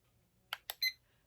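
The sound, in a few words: timer starting at 10 minutes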